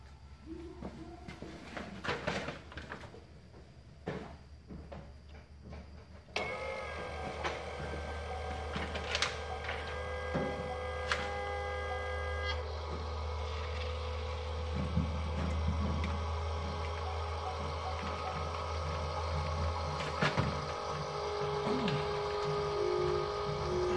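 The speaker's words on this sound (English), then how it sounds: "You'll hear the pump kick in, start running, and it'll start filling everything up with fuel." A FASS fuel lift pump on a Duramax truck kicks on after a few quiet seconds and then runs with a steady electric whine and hum, alone and close.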